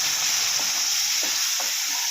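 Prawns frying in a pan as a little water is added, giving a steady loud sizzle with a few faint stirring scrapes, no talking.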